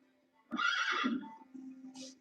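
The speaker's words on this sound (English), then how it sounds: "the tiniest horse you've ever seen, but he trots around like a king" A tiny horse gives a loud, close whinny lasting about a second, then trails off into a softer low nicker, with a brief high snort near the end.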